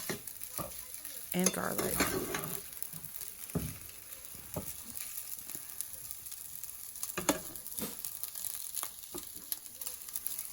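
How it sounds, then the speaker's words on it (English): Ground beef stir-fries in a pan with onions, ginger and garlic, giving a steady close sizzle broken by the scrape and clack of a utensil being stirred. A voice speaks briefly at the start. "just add in all of your ingredients together and just fry it all up"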